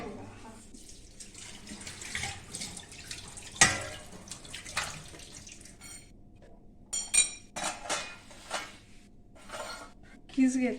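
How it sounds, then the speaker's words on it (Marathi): Grated potato rinsed under a running tap in a kitchen sink to wash out the starch for sago-potato papads. Water runs and splashes steadily, close up, with clinks of a metal vessel and a few sharper knocks near the end. "आता तीन पाण्यात काढून घ्यायचं त्याचं स्टार जे आहे ते पूर्ण निघायला पाहिजे"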